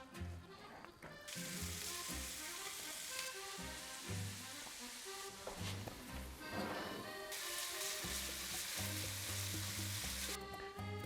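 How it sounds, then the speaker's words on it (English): Steady sizzling of ground beef and Italian sausage browning in a hot pan, continuous and close, with music playing in the background. "Now it's time for us to brown our ground beef and our Italian sausage."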